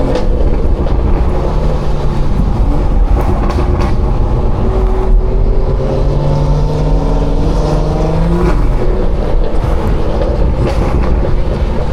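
A 500-horsepower B58-engined car driving hard on New Jersey streets, its loud exhaust droning continuously with rising and falling engine pitch as it accelerates and shifts, heard close from inside the cabin with no talk.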